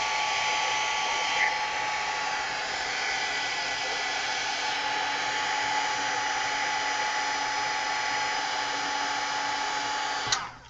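A hair dryer blows steadily over wet paint on a mixed media layout, a loud, even close-up whoosh that cuts off abruptly at the end, with no speech.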